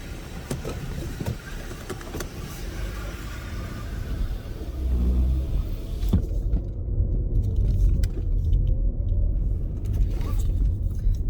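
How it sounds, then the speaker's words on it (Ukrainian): A large truck idles near a drive-through, a deep steady engine rumble that grows louder and heavier midway through, with no talking. "Тут здоровенний трак, і він ніяк не під'їде ближче."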